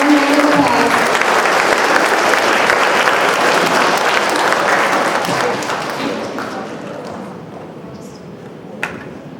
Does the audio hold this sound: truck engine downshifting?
no